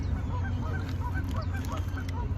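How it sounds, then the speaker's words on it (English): Ducks call repeatedly by a lake, a steady run of honking, quacking notes at moderate distance over a constant low background hum. "हमसे ज़्यादा तो उनकी आवाज़ आ रही है ducks की"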